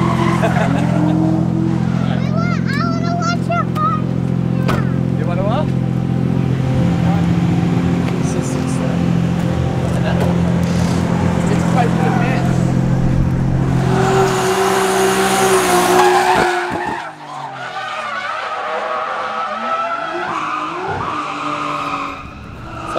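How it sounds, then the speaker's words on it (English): A Nissan Laurel drifts at a Sunday morning car meet, its engine revving hard while the tires squeal and skid continuously, then the sound drops away into quieter engine noise with people's voices audible. "Benke's having a little bit of a send with his Laurel."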